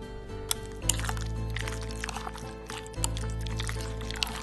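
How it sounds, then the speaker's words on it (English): Vegetable oil poured into a shrimp paste for fried shrimp balls, a soft liquid pour with wet squishing and small drips over a steady low hum, quiet and close. "Add in 3 tablespoons of vegetable oil and mix well again."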